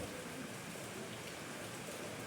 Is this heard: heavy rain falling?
yes